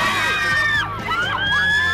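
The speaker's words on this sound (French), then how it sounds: "Cris aigus, filles en transe." Fans crowd and scream, a dense wash of high-pitched girls' shrieks and cries with rising and falling wails, loud and continuous throughout, near and overlapping.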